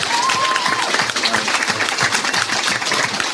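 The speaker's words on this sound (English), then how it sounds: "I want us to all have a round of applause for Glenn" Loud, dense clapping from a crowd fills the whole moment, a steady burst of applause with a few voices underneath.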